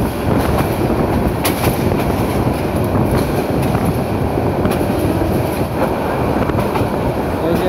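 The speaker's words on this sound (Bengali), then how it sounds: "ট্রেনটি ঢাকা এলিভেটেড এক্সপ্রেসের নিচ দিয়ে যাচ্ছে।" The Mohonogor Express night train from Dhaka to Chittagong rolls beneath the Dhaka Elevated Expressway with a loud, continuous rumble of wheels, broken by faint periodic clacks.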